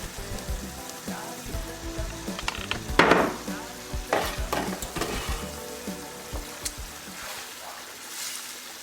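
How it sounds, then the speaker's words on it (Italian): Eggplant pieces drop into a pan of simmering tomato sauce for Sicilian pasta alla Norma, giving a loud burst of sizzling and frying with spoon stirring and scraping, close and busy, then settling into a steady bubbling sizzle. "E quindi noi andremo ad inserire le nostre melanzane."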